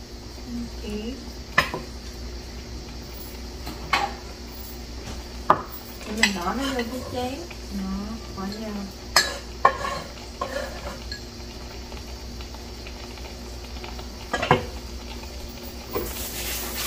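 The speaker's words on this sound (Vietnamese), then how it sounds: "mình sắc hành, mình bỏ, mình trộn vô cái tôm này này" A spoon clinks and scrapes against a bowl as minced shrimp and chopped shallots are mixed, with scattered sharp taps and soft stirring in a quiet kitchen, brief murmured voices now and then.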